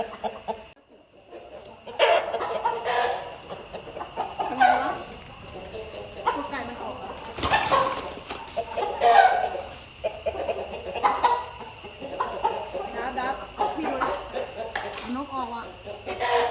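Chickens cluck and squawk repeatedly close by, with crickets chirring underneath and people talking intermittently over the birds.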